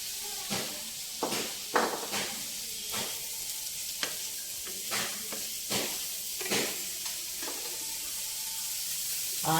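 Green peas and capsicum frying in a pan for semiya pulao, a steady soft sizzle with repeated scraping stirs of a spoon, no talk.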